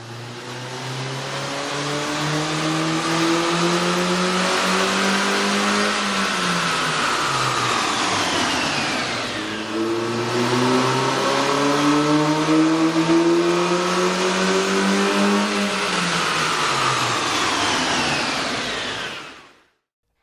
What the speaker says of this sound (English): You can really see and hear the difference the K&N air intake system will make to your car.